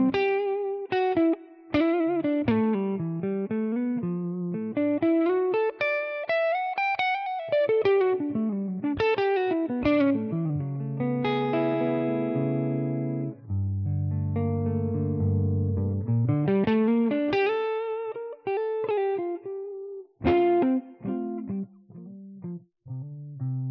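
An electric guitar plays a melodic solo through a ToneX ONE pedal using the amalgam KIT IV character amp model with reverb added, with singing sustained notes, bends and fast runs alone for over twenty seconds.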